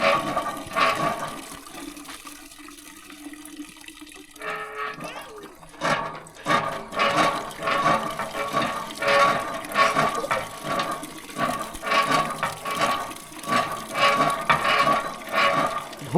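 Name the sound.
water pump pumping water in a Lao village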